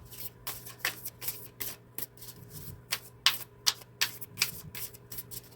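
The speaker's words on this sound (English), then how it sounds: "We're going to continue shuffling" A deck of playing cards is shuffled repeatedly, giving crisp riffling bursts in an uneven rhythm with brief pauses between them, close and clear, with no talking.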